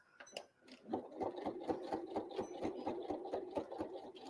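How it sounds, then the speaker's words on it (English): Sewing machine stitching the pocket onto an old-fashioned apron, a steady rapid mechanical chatter of needle strokes running close and continuous after a brief start. "sew that pocket right to the edge"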